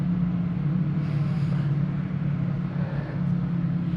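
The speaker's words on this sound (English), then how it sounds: "people have started to warm their bikes" Ducati Panigale V2 motorcycle engines idle and warm up at a trackday garage, a continuous low throbbing rumble that stays steady and close throughout, with no speech.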